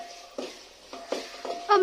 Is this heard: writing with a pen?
no